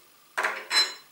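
An enamel saucepan is handled up close in a kitchen, producing two quick, bright metallic clanks in succession, each with a short ringing decay and no voices.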